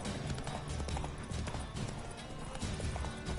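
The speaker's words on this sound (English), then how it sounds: "Double gallop." A horse gallops at double speed in The Witcher 3 video game, a fast, dense run of hoofbeats that is loud and steady, with no speech over it.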